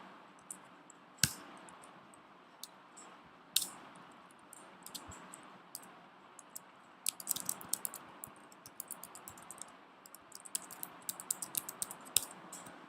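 MATLAB code is typed on a computer keyboard, heard as quiet, irregular key clicks close by in a hushed room, with a few louder taps early on and faster bursts of keystrokes later, and no talking.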